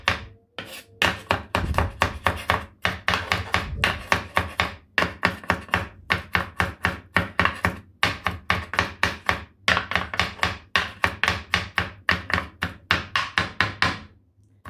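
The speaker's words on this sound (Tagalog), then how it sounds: "mag-chop tayo ng maraming bawang" Rapid knife chopping of a large amount of garlic on a board, a close, steady run of sharp wooden taps with brief pauses between bursts, with no talking.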